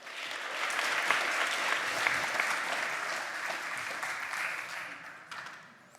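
A conference audience claps for a speaker about to take the stage, a dense, even wash of applause that swells early, holds steady and fades out near the end.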